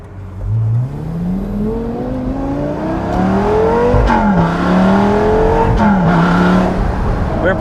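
A supercar engine revs hard from inside the cabin, rising and falling through several gear pulls with loud throaty exhaust, and brief crackles between the revs.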